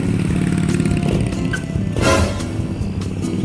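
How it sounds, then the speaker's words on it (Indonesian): An old, smoke-belching motorcycle rides past, its rough engine loud and steady throughout and swelling briefly as it goes by. "suaraku jadi nggak kedengeran sama sekali gara-gara motor berasap tadi"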